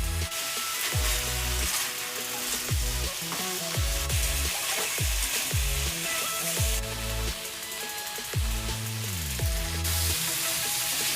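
Jackfruit and shrimp with ginger paste frying in a pan, a constant loud sizzle broken by regular scraping thumps of stirring roughly every second, close up and without speech.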